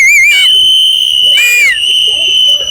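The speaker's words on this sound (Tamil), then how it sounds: "எல்லாரும் சேர்ந்து ஒரு விசில் போட்டா." Cricket fans at a CSK match whistle together, sharp piercing shrill tones in two loud bursts over a sustained steady whistle, with no one speaking.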